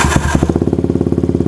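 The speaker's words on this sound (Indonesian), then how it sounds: "Oke, saya akan langsung nyalakan ya mesinnya." A Yamaha Vixion motorcycle engine cranks and fires up, then settles into a steady, close, fairly loud idle with an even rapid pulse.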